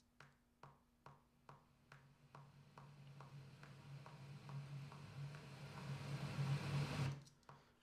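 A big waterfall sound loop, a broad rushing roar of falling water that swells steadily louder over several seconds and then cuts off abruptly, with faint regular ticks repeating through it.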